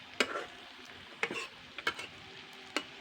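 Fish roe sizzling in a pan while a spatula scrapes and stirs in a few quick, separate strokes, close and quiet, with no talking.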